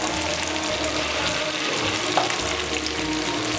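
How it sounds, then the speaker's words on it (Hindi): Dahi bhalla lentil vadas fry in hot oil in a kadhai, giving a steady, close sizzle and bubbling with a brief splash partway through. "अब हम इस गरम ऑयल में डालना शुरू करेंगे बड़े।"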